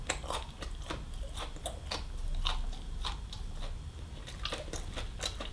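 Crunchy biting and chewing of a Thai-style fried shrimp eaten head and all, with repeated close, crisp crunches and soft mastication in a steady rhythm and no talking.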